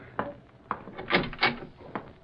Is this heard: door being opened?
yes